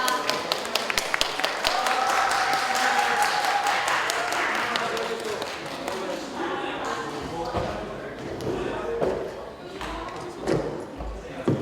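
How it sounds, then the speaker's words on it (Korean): Audience applause welcoming a discussion group at a youth politics forum: many hands clapping close and steadily, slowly thinning out, with voices murmuring underneath toward the end. "자, 박수로 한번 1조 환영해 주시기 바랍니다."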